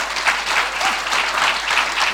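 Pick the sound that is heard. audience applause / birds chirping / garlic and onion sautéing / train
audience applause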